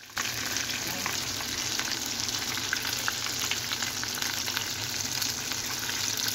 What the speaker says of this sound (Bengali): চিংড়িগুলো ভাজার জন্য আমি অল্প অল্প করে নেড়ে দিচ্ছি